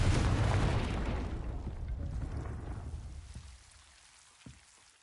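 A Confringo blasting spell in a Harry Potter video game bursts loudly at the start, its rumbling roar slowly fading over several seconds, with a couple of small pops in the decaying tail.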